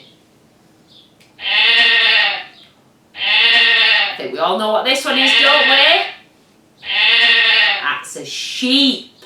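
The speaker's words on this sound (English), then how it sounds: "That's a sheep. The baby sheep is called a lamb." Sheep bleat in several loud, drawn-out calls, each lasting about a second, with someone talking in between the bleats.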